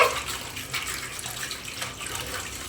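Dishes being washed by hand under a running kitchen tap, a steady broadband rush of water heard up close with small splashes and clinks throughout.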